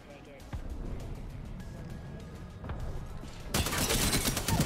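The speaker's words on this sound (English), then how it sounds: "The nade spamming begins." Grenade explosions and gunfire in the Apex Legends video game: scattered sharp blasts and shots, then a dense, loud barrage of bursts that builds toward the end.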